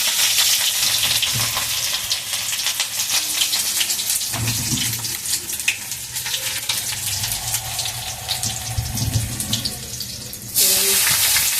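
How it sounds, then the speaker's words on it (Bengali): Garlic cloves dropped into hot oil sizzle and crackle steadily, a bright, continuous frying hiss with small pops, close and fairly loud, no voices over it. "আমি এই রসুনগুলোকে তেলে দিয়ে দিলাম।"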